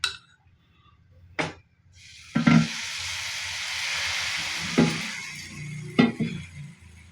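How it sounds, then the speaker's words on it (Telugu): Rava dosa batter, made with upma rava, poured onto a hot pan sizzles in a steady, moderately loud hiss lasting several seconds, with a few sharp clinks of a utensil against the pan before and during the frying. "ఇప్పుడు దోశలు పోసుకోవాలి"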